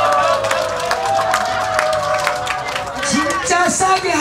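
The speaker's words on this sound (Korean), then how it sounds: "박수." Audience applause and cheering at a live pumba comedy show, a continuous wash of clapping and crowd noise under an amplified voice.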